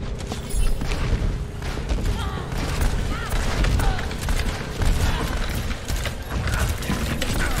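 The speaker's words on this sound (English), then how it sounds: "Who's shooting at me?" Gunfire and mechanical clatter from an Overwatch Quick Play match, dense and continuous over the full stretch with booming bursts mixed into a busy game soundscape.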